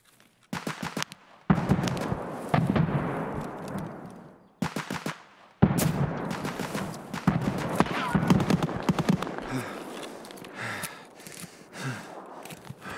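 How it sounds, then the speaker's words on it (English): Gunfire from a rogue enemy in Escape From Tarkov, sharp repeated shots in bursts with silent gaps, some close and loud, followed by a denser stretch of shooting with a player's voice breathing and reacting over it. "that's the rogue shooting at me"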